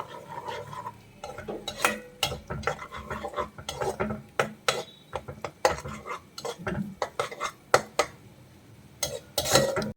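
Garlic chicken gravy made with soy sauce and cornflour cooks in a pan, heard mostly as repeated clinks and scrapes of a utensil stirring against the metal, with a soft sizzle underneath.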